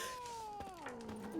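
A cat meows in a drawn-out, falling cry lasting over a second, close and fairly loud, with faint game sounds in the background.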